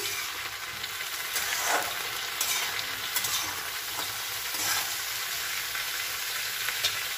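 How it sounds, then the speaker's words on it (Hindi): Chopped brinjal mixed into frying ingredients in a pan sizzles and hisses steadily at close range, with several brief stirring scrapes breaking through the constant fry. "अब हम इसमें डाल लेते हैं भाटा जिसे हमने काट कर रखा था इसे अच्छी तरह हम मिक्स कर लेते हैं"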